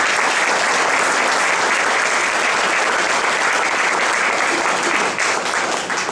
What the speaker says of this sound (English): let's give these three gentlemen a round of applause